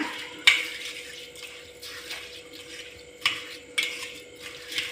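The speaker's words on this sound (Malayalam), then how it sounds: "ഇനി എല്ലാം കൂടി ഒന്ന് മിക്സ് ചെയ്യാം" Rice, yeast and grated coconut batter being stirred together in a bowl, with soft continuous swishing and a few sharp clinks of a utensil against the container, close and fairly quiet.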